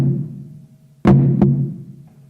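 Drum mallet strokes on a drum, a badly controlled double stroke: one sharp hit, then a second uneven strike about a third of a second later, each ringing out and fading, heard alone.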